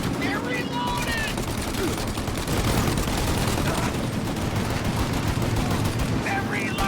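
Sustained automatic gunfire rattles through a firefight in the video game Mafia Definitive Edition, dense and loud with overlapping bursts from start to finish, while someone shouts over it.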